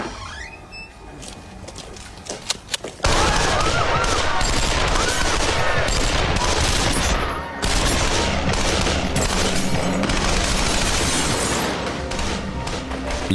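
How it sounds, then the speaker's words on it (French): Automatic gunfire erupts in dense, rapid bursts during a Bank of America robbery shootout in Los Angeles, loud and sustained for several seconds with a brief pause, preceded by quieter scattered sounds. "Les policiers sont surpris d'entendre des tirs en rafale."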